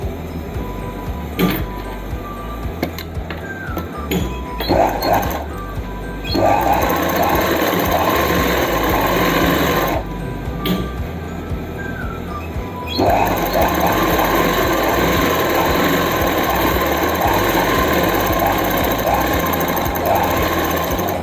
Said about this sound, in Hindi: अब इसको फोल्ड करके इसी तरह से एक पैर की सिलाई लगाएंगे इसके अंदर भी